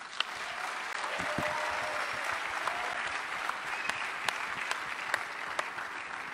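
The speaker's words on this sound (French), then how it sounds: "je voudrais demander à toutes les personnes ici présentes de vous applaudir très très fort" An audience applauds steadily at a fairly distant, moderate level, a continuous wash of clapping with a few sharper claps standing out.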